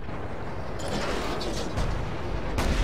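A tank cannon fires and hits a Panther tank in a tank combat video game, with dense rumbling booms and crashing impact noise filling the clip loudly.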